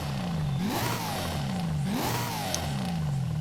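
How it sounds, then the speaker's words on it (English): A Corvette drift car in a racing video game, its engine revving in repeated rising and falling sweeps, roughly one per second, loud and continuous with no talking. "I legit do not know how to respond to that engine noise."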